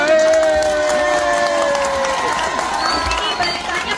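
A crowd of local residents at an evening neighbourhood gathering claps and cheers briefly, a lively burst of noise mixed with shouting voices.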